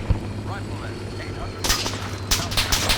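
Artillery fire in the Arma 3 video game during a Falklands War scenario: a sharp boom near the start, then two heavier blasts rumbling over continuous background noise, with no talking.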